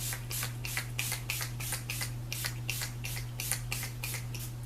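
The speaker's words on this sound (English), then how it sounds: "I'm going to set my face with the Urban Decay De-Slick Setting Spray." Urban Decay De-Slick Setting Spray misted onto a face in a rapid series of about fourteen short, hissing pumps at a steady rhythm, close and clear over a low electrical hum.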